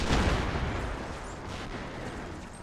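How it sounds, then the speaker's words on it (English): Grenades and artillery blasts in an Empire Total War siege battle, a dense rolling barrage of explosions and gunfire near and far, booming continuously without pause and heaviest at the start. "It is someone throwing grenades, I figure."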